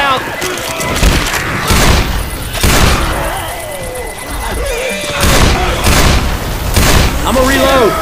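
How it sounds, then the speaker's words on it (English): Booming pipe bomb blast in Left 4 Dead 2 on the Hard Rain campaign, heavy thuds and rumbling mixed with bursts of gunfire and loud voices shouting over the chaotic combat. "Pipe bomb out!"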